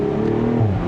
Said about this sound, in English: Oh, listen to those pops and those crackles.